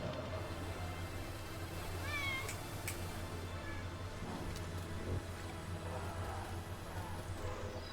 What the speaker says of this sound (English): my apologies on the background cat noise